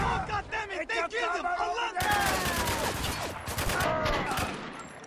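Turret machine gun fire in Spec Ops: The Line, a loud continuous fusillade of rapid shots mixed with battlefield noise, and voices shouting over it.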